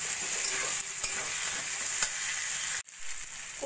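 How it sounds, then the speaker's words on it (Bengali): Boiled taro root being stirred and sautéed with spices in oil for a katla fish curry, a loud steady sizzle with scraping stirs that cuts off abruptly near the end, then resumes more quietly. "কচুটা দিয়েও ভালো করে একটু কষিয়ে নেব।"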